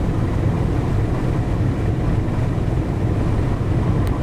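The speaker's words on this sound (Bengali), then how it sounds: "ময়ূর দশ লঞ্চটি দেখতে পাচ্ছেন বেশ ভালো গতি নিয়ে এগিয়ে যাচ্ছে চাঁদপুরের উদ্দেশ্যে" The passenger launch MV Mayur 10 cruises toward Chandpur, a steady low engine drone mixed with rushing water and wind buffeting the microphone, constant and loud throughout.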